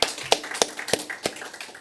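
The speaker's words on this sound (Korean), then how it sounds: "우리 박수 한번 해요" Church congregation clapping for two missionaries during a Sunday worship service: a few sharp, evenly spaced claps at a moderate pace, fairly quiet and without talk.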